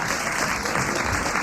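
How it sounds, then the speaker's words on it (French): A studio audience at a French radio comedy show claps steadily, a dense wash of applause at moderate volume with no pauses. "Vous avez bien vous l'applaudissez"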